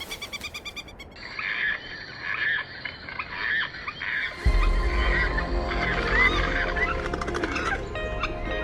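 Harsh, repeated cries of a falcon ring out from the sky over a rushing backdrop, then a deep rumble joins as the calls continue, loud and close.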